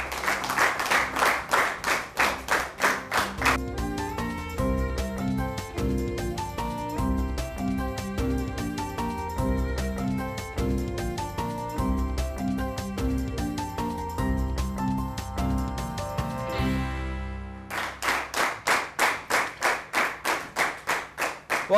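A school debate audience in Adamawa State claps in brisk rhythmic unison, then a sustained musical passage takes over before the rhythmic clapping returns near the end.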